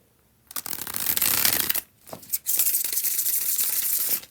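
A deck of tarot cards is bridge shuffled at close range, with a dense riffling flutter that pauses briefly before a second long riffle.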